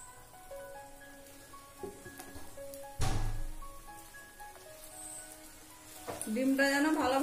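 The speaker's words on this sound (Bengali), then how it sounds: "এবার সাইড থেকে অল্প করে তেল দিয়ে দেব।" An egg fries in oil in a pan for a Kolkata-style egg roll, cooked at home. A soft, steady sizzle runs throughout, swelling into louder crackling bursts as more oil goes in.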